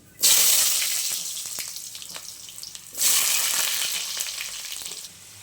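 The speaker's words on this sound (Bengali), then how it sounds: "আলু ভাজা হয়ে গেছে" Potatoes fry in a pan with bay leaf, dried chilli, cumin, cinnamon and cardamom, two loud bursts of sizzling that flare up and slowly die down, with light stirring clicks.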